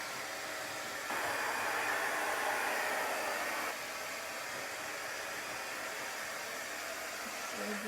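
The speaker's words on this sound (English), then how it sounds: "So I'm going to dry off the moisture." A hair dryer drying moisture off a chalk board: steady, airy blowing whoosh that rises louder for a few seconds in the middle, then continues at a softer level, with no talking.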